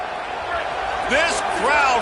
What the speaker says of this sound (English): This crowd busting the decibel meter and trying to will a fourth down stop.